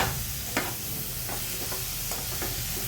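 Half-boiled cauliflower sautéing with onion gravy in a pan gives a steady, even sizzle, broken by a few soft stirring scrapes and clinks. The sound is close and carries on alone.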